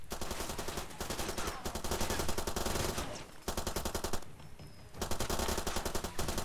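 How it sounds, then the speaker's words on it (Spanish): Rapid bursts of automatic gunfire in the video game Far Cry 2 rattle continuously with brief pauses between volleys, loud and sharp, with no voices. "Yo como que disparo por disparar"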